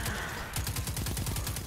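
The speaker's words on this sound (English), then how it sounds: "What gun was that?" Rapid automatic gunfire in Destiny 2 multiplayer, a quick string of evenly spaced sharp shots starting about midway and running to the end, loud and close.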